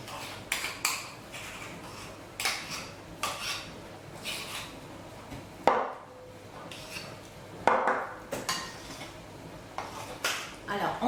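Chocolate and whipped cream being folded together in a mixing bowl, with repeated clattering scrapes and clinks of a utensil against the bowl in irregular bursts, under occasional talk.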